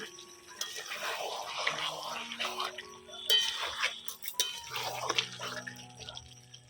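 Lifting the lid and stirring dahi chicken simmering in its own juices in a pot: soft wet stirring, scraping and liquid sloshing at close range, with light clinks of utensils and intermittent noise throughout.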